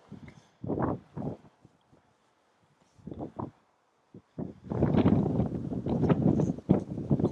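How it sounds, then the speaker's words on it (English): Wind buffets the microphone at the Buckman Springs ghost town, coming in irregular rumbling gusts with quiet gaps between them, then building into a longer, louder stretch of blustery noise. "And it is windy out here."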